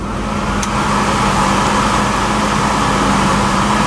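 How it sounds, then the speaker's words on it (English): A passing dump truck heard from beside a parked 1966 Ford Mustang, a loud continuous rumble with a low engine drone and road noise that holds steady throughout. "Hopefully you guys can hear after this dump truck passes by or whatever the heck that thing is"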